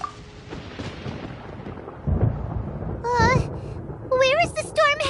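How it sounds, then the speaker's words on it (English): Thunder in Genshin Impact rolls as a low, broad rumble that swells midway, with a voice speaking over the storm noise. "Paimon hears thunder!"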